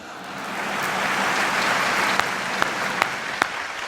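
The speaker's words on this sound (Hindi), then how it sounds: "सब ज्यादा तालियां अधिकारियों ने बजाई है इस बात पे।" Steady applause from an audience at a Hindi comedy and humour event, a dense continuous patter of many hands with a few sharper claps standing out near the end.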